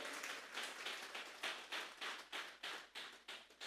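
A congregation at a Sunday church service claps together as an offering of applause to God: a steady run of rhythmic group handclaps, distant and fairly faint, with no voices over them.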